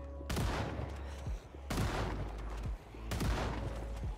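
Three loud, close gunshots ring out in Project Zomboid, spaced well over a second apart, each a sharp crack trailing off into a long booming decay over a steady low hum.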